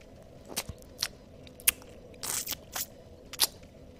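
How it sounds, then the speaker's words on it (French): Close, quiet mouth noises from someone eating, with a string of sharp, irregular crunches and bites over about four seconds and no speech. "Des bruits de bouche dégueu"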